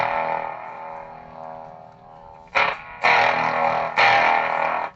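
An electric guitar through a fuzz pedal on a Boss pedalboard with the fuzz turned low, giving a sustained, mildly gritty chord that fades, then three sharp, buzzy strummed hits, close and alone.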